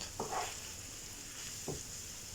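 Spoon stirring chicken filling with spices in a pan, a soft, steady sizzle with a couple of brief scraping strokes, fairly faint and close.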